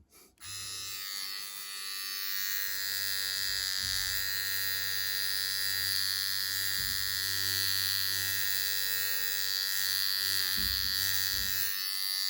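A cheap rechargeable electric shaver switches on with a click and then runs continuously while shaving, giving a steady, close, loud buzzing drone that holds at an even level for the whole stretch.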